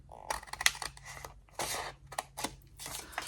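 Scissors snip through a piece of card for a magic lid box, several separate crisp cuts with short pauses between, close and clear with no talk.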